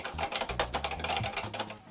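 Quick, rhythmic key presses on an Atari 800 computer keyboard, a run of crisp clicks close up, about a dozen strokes in under two seconds, with a low tonal hum underneath and no voices.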